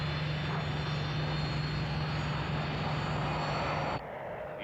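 Fighter aircraft overflying the outskirts of an airfield, a loud continuous engine roar with a steady droning hum that holds for several seconds, then abruptly drops to a quieter rumble.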